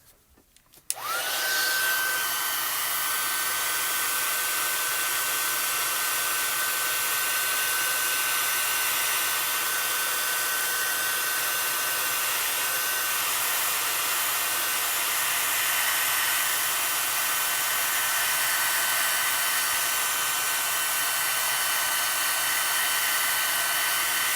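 Heat tool blowing on a clear card background for card making, switched on with a click and then a steady loud whooshing fan roar with a faint high whine that holds unchanged for over twenty seconds.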